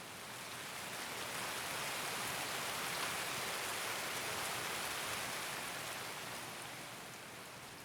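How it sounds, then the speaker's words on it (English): Steady rain pours in the video game Escape From Tarkov, a dense continuous hiss that swells slightly and then eases near the end, with no voices. "it'll start to rain a little bit and then rain a lot."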